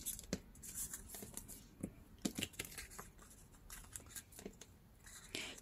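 Paper is being ripped from an old book page, heard as faint, close, irregular crinkling and tearing rustles with scattered sharp crackles throughout.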